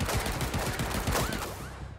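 Rapid bursts of gunfire in the game Paint the Town Red, loud close shots rattling in quick succession, easing off toward the end.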